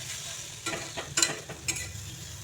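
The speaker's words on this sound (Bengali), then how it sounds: "একটু সময় 1 সেকেন্ডের মতো নেড়ে চেড়ে নামিয়ে নেব" Colocasia (kochu) leaf paste being stirred in a pan, soft low sizzling with three short scraping strokes of the spatula, quiet and close.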